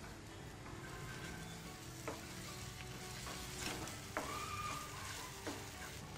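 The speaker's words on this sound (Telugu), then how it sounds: "సో గార్లిక్ పేస్ట్ కూడా మంచి ఫ్రై అయిందండి." Garlic paste sizzles and fries in a pan, a quiet, continuous crackling hiss with occasional light scrapes and clinks of a spoon stirring, close by and without any talking.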